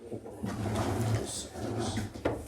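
A kitchen drawer is opened or shut during a crime scene walkthrough, giving a brief knock near the end beneath steady conversation between people in the room.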